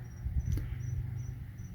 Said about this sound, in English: at nighttime it is super quiet. You'll hear mostly the cicadas or the tree frogs